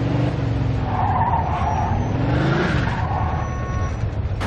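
A car driven hard in Mafia II, with tires skidding and squealing over a steady, loud engine drone, continuous and close, the engine pitch rising and falling as it slides.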